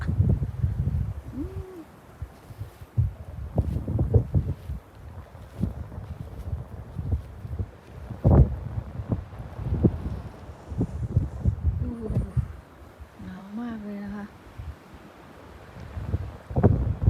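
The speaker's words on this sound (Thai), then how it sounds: "มันจะมีฝน มีลม ลมแรงมาก" Strong wind gusting during a Norwegian snowstorm with rain, a loud, buffeting roar that swells and drops with microphone rumble, with occasional bird coos and other faint sounds mixed in.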